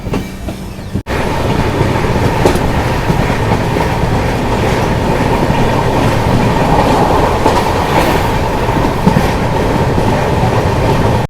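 Ganga Sutlej Express train rolling along the tracks near Phillaur Junction, a loud continuous rumble with rhythmic clickety-clack of wheels over rail joints, heard from inside the carriage with a sharp knock early on.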